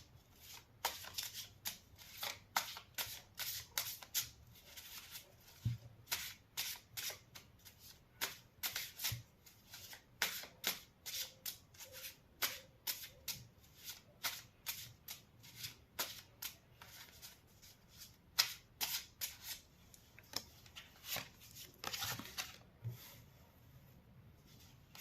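Tarot cards shuffled for a reading, heard up close and very quiet: a steady run of crisp riffles and flicks in quick irregular bursts, continuing throughout with no talking.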